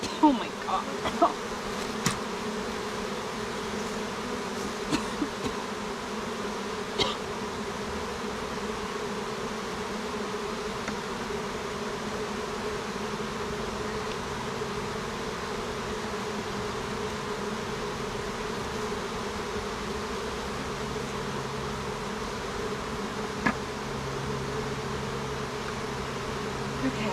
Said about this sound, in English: I need to shake some bees into this one, I think.